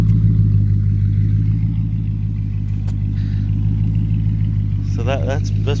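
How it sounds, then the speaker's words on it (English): Straight-piped Mercedes E500 V8 exhaust idling after a cold start, a steady deep low rumble throughout with a brief voice near the end. "So that's pretty much how she sounds cold started and just sitting there idling."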